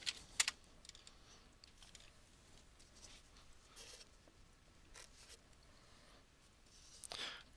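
Quiet typing on a computer keyboard while entering a MAC address and pressing enter at a command line: light, irregular keystroke clicks, with a couple of sharper taps near the start and a final louder press near the end.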